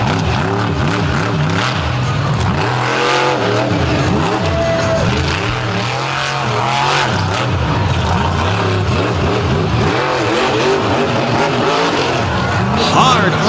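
The Warp Motorsports Toxic monster truck makes a freestyle run at a beach show, its engine roaring loud and continuous with repeated revving surges and some tire noise, while a commentator talks over it.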